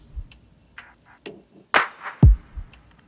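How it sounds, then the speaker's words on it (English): A sparse, dry percussion loop of knocks, clicks and a deep boomy hit, spaced irregularly with short silences between, played alone. "this really nice kind of drum loop that I grabbed off of Splice"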